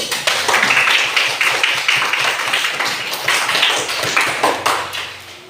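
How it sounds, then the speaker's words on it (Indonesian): A group claps hands rapidly and steadily for several seconds, a dense burst of applause close by. "Kita tepuk tangan dulu."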